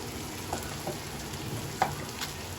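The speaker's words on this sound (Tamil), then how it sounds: "உங்கள் வீட்டு ஸ்டவ்வுக்கு ஏற்ற மாதிரி கொஞ்சம் மீனை பார்த்து பக்குவமாக திருப்பி போட்டுக்கோங்க" Masala-coated fish fries in hot oil on a home stove, giving a steady low sizzle with a few soft pops and stirring bumps, close and continuous with no voices.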